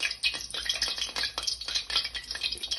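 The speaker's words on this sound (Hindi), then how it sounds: "अब ऑयल हमारे पास गर्म हो चुका है, इनको हम फ्राई कर लेते हैं।" Homemade chicken nuggets frying in hot oil, with a close, continuous bubbling sizzle and occasional utensil clinks against the pan.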